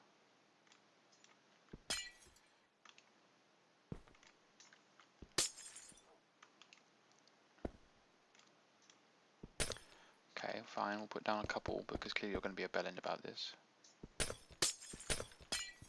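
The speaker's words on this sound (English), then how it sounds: "Smash that with a hammer." Blocks of ice smashed with a hammer in Minecraft, heard as sharp, separate cracking and shattering bursts spaced a few seconds apart, with someone talking over a stretch in the middle.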